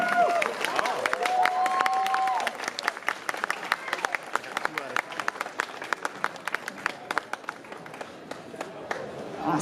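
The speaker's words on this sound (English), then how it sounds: "Round of applause," Crowd applause and cheering for the first adult cosplay contest winner at a 2017 Pokémon Regionals event, with sharp claps scattered throughout and a voice talking over the start.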